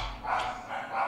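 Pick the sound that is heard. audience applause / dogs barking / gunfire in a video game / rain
dogs barking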